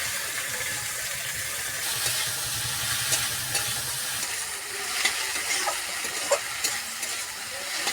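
Cumin seeds and onion fry in hot oil, a steady bright sizzle close by, with intermittent scraping and stirring taps growing more frequent toward the end.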